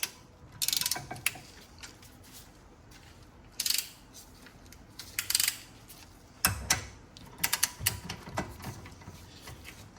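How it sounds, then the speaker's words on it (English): A torque wrench tightening a bolt on an adjustable bump steer tie rod end of a Porsche, heard as a few sharp ratcheting clicks in short bursts separated by quiet gaps, close and alone. "So I'm just going to torque the bolt."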